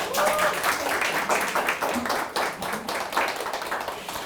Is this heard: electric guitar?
no